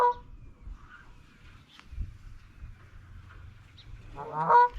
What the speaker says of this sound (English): Oh, I heard another goose behind us.